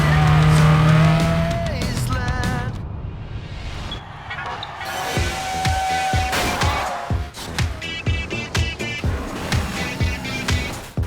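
Cars race in Burnout Revenge on Xbox 360 with roaring engines, screeching tires and crunching crash impacts in quick bursts, loud and busy over game music.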